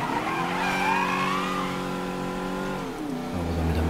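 A car pulls away in the video game Mafia 3, engine revving up through rising gear tones with a squealing, skidding note, then settling to a lower hum; close and steady with no talk.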